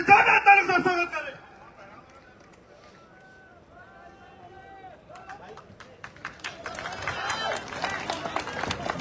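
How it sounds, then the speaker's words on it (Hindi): A rally crowd applauds to welcome Chandrashekhar Azad: a loud burst opens, a quieter tonal stretch follows, then scattered claps build into steadier clapping over the last few seconds. "जोरदार तालियों से स्वागत करें"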